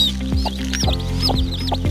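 Newly hatched native chicken chicks on their second day chirp nearby in quick, rising peeps that repeat several times, with a steady low hum running underneath.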